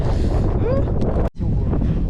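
Strong wind buffets the microphone on the Syme Hut Track in New Zealand, a loud, roaring rumble that cuts out briefly near the middle before resuming, with faint voice sounds underneath.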